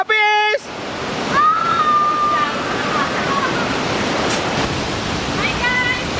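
Sekumpul Waterfall near Singaraja, Bali roars as a steady, loud broadband rush of falling water through the whole stretch, with a brief tonal beep at the start and a faint voice-like whistle partway through.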